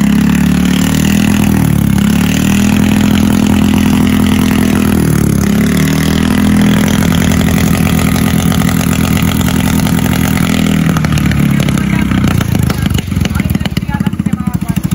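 A small boat's engine runs loud and close with a rough, uneven misfiring chug throughout, its beat growing more ragged toward the end.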